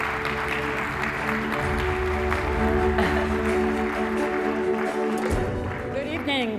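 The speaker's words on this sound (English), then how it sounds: "A big applause, please." An audience at a health-care awards ceremony applauds steadily for several seconds, moderately loud, with music or tonal sound running underneath.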